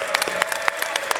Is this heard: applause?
yes